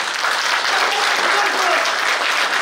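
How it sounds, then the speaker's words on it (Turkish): A large audience applauds the President at a speech in Türkiye, a dense, sustained roar of clapping that holds steady and loud throughout. "öncelikle Sayın Cumhurbaşkanıma kuvvetli bir alkış istiyorum"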